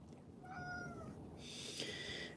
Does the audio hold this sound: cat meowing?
yes